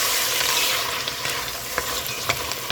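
Shrimp sizzle steadily in a hot pan that has just been used for sausage, a dense continuous frying hiss with a few sharp crackles and pops near the end, heard alone without talk.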